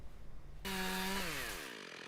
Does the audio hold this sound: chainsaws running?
yes